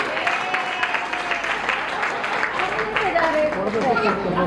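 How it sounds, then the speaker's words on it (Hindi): Audience at a religious discourse festival in a Sanatan Dharma temple clapping steadily, a dense, sustained patter of many hands, with a voice talking over it. "अरे ताली बजाओ"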